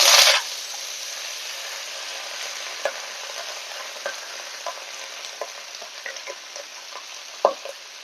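Leafy greens dropped into hot oil tempered with nigella seeds, two bay leaves and a dried red chili, a loud burst of sizzling that settles into a steady frying hiss with occasional sharp pops and stirring scrapes.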